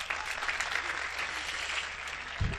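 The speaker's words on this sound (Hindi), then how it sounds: "एक बार तालियां बजाए मन दे दोस्तों।" Audience applause at a Hindi comedy poetry (hasya kavi) performance, sustained dense clapping from a crowd at moderate distance, ending with a low thump.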